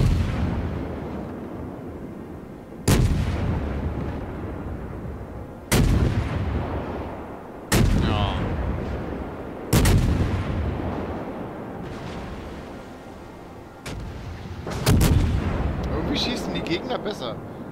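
Naval guns in the warship combat game World of Warships fire about six heavy booming salvos, each spaced a few seconds apart with a rumbling tail, while a player talks over them.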